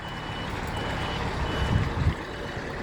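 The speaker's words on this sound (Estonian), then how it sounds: "kus on tulemas sinine veoauto toomas liiva vilkuritega." A blue Scania truck carrying sand reverses on a large construction site, its backup beeper sounding steadily over the low rumble of the engine, close by and fairly loud with no voices.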